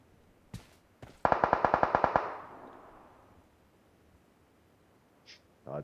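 Gunfire in PUBG Mobile: two sharp single shots, then a rapid burst of about ten automatic rounds trailing into a long echoing decay, with a few faint game sounds afterward.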